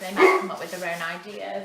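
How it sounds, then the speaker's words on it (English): A dog barks excitedly in a home while a person keeps talking over it, the yaps rising loud at first and then continuing under the speech. "Excuse the dog's going mad"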